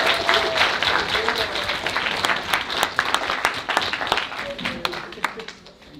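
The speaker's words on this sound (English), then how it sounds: "So give it one more round of applause for these guys." Livestream audience at a Seneca College 2D animation showcase gives a sustained round of applause, dense clapping with some cheers and voices mixed in, steady for several seconds and tapering at the end.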